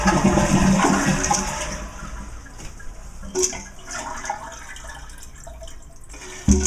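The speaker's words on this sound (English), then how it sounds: "I'm going to flush the toilet just to clear out some water from the tank" A Kohler toilet is flushed to empty the tank before a gasket replacement: a loud rushing flush at the start drains away into quieter gurgles and drips, with a few clunks and a sharp knock at the very end.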